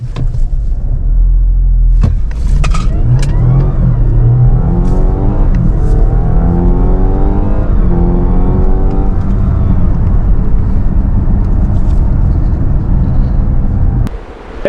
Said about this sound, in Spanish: Vamos a pisar freno y acelerador a fondo y a ver qué pasa